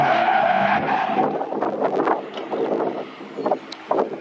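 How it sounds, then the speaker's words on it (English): A Mitsubishi Evo drifting with tires skidding and squealing in bursts, engine roaring underneath, wind buffeting the microphone up close and loud throughout. "That's my first time ever drifting an Evo."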